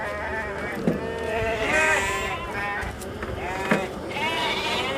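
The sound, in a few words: goats bleating while being loaded onto a truck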